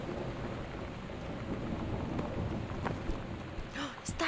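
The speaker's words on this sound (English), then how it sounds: "The thunder sounds so real." Steady rain with a low rumble of thunder inside the video game Gone Home, a continuous wash of downpour throughout and a few brighter crackles near the end.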